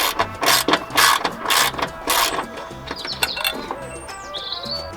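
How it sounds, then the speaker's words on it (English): A ratchet clicks rapidly in short bursts while a 10mm bolt comes off the crash sensor of a crashed Mazda MX5 NC, close and clear, with faint bird chirps in the background. "There's a little 10mm bolt there, so we'll get that removed."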